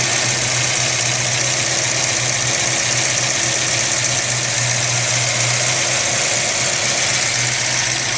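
A 1970 Ford Boss 302 V8 engine with a service replacement block idles steadily with a deep, even rumble and slight mechanical knock, loud and close, continuing unchanged without any voices.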